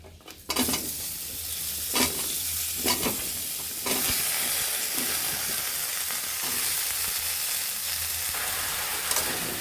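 Loud, continuous sizzling as vegetables hit hot oil, with a few sharp clanks of a spoon or spatula stirring the pan; no talking.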